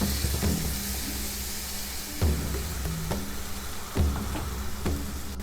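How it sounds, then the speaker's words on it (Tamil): Tomatoes sautéing in a pan for Chettinad garlic kuzhambu: a continuous sizzle and fry hiss broken by several soft clunks of a spoon stirring and turning them, close and without speech. "தக்காளியை சேர்த்துட்டு நல்லா வதக்கிக்கணும்"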